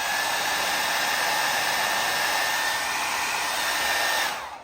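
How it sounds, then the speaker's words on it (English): A hair dryer blows at a steady, loud whoosh close by for several seconds while drying parts of a Saeco Royal OTC coffee grinder under repair, then winds down as it switches off. "I'm also going to run the hairdryer just quickly over it."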